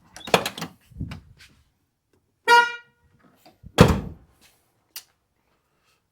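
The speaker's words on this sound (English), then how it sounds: "the low tone horn doesn't work" A Ford OBS truck horn with a non-working low-tone horn gives one short, thin, high-pitched honk amid a few thunks and door clunks around it.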